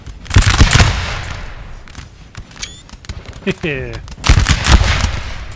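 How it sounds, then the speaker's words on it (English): Artillery volleys boom in a Napoleon Total War battle during a London assault, two loud clusters of cannon fire near the start and end with scattered thuds between, while someone speaks briefly. "Good artillery fire."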